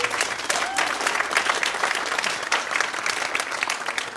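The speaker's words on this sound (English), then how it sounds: "Let's give you guys a round of applause." Audience at a college medallion ceremony gives a round of applause, dense steady clapping lasting a few seconds without speech.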